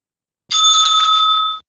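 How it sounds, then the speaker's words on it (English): Timekeeper's bell at a debate struck once, a single bright ringing tone that sustains for about a second before cutting off, loud and close against silence. "The timekeeper will ring the bell once"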